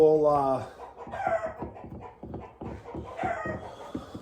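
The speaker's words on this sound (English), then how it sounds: "chickens are going a little crazy" Several chickens cluck close by in a busy, uneven chorus, one call rising into a longer squawk near the start.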